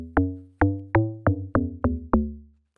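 Amapiano log drum preset on the FL Studio DX10 synth, seven deep, boomy tuned hits with sharp attacks and decaying tails in a syncopated pattern, loud and isolated.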